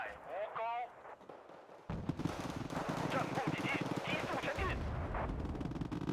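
Gunfire and explosions from the real-time strategy game Wargame: Red Dragon, a dense continuous rattle of shots and blasts after an opening stretch of game sounds, with someone talking over it.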